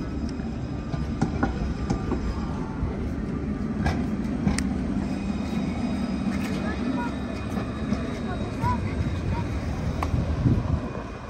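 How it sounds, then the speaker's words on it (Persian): A Bordeaux city tram runs through the streets at night, a steady low rumble with scattered metallic clicks and rattles, close and continuous, with faint voices and wind in the background. "در اینجا هم تراموای شهری بردو ساعت 1-2 شب هنوز هم فعالیت دارن"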